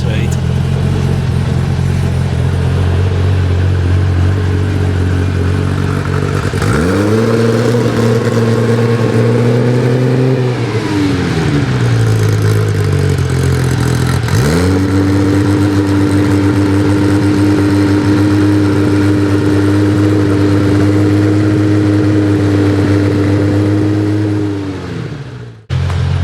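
A 600hp Porsche 964 Turbo revs loudly as it is driven, its engine note climbing twice through rising pitch sweeps with a steady high drone between and a brief dip, close and continuous throughout.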